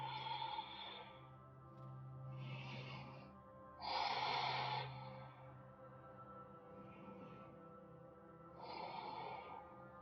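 Slow yoga breathing with a lengthened exhale: a few soft, airy breaths, the loudest near the middle, rise and fall over a steady low tonal background.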